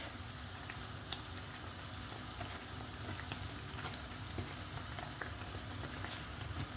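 Pişi dough fries and puffs in hot oil with a steady, quiet sizzle and scattered small pops and crackles, heard alone at close range.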